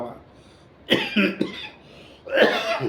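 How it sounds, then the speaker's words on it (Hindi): A person coughs several times in quick harsh bursts, then coughs again after a brief pause, close and fairly loud. "खांसी हो गई"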